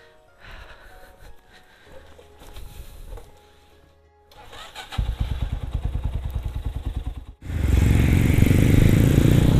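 A motorcycle engine at night starts with faint putters, then settles into a rhythmic, pulsing chug. It swells into a louder, continuous close-up roar near the end.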